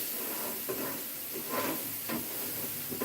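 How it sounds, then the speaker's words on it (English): Steady, close sizzling of minced beef burger patties frying on a hot grill, a continuous crackling hiss with small pops. "Oh, we love that sizzle."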